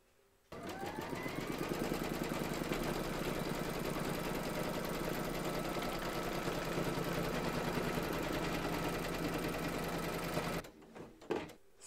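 An embroidery machine loaded with green thread runs a continuous, even stitching pass to secure a reindeer towel topper to the hoop, its rapid mechanical chatter close and steady for about ten seconds before stopping abruptly.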